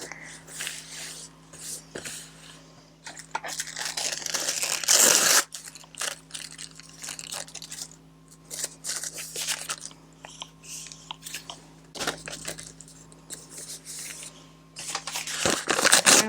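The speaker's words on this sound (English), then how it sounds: "So I'm going to put some more of this tissue down." Tissue paper being laid down for a mixed media collage, giving bursts of crinkling and rustling close by, with the loudest crumple near the middle, amid handling noise and a steady low hum.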